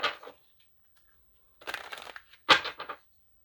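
Tarot cards being shuffled in close bursts: a brief riffle, a pause, then two longer rustling shuffles.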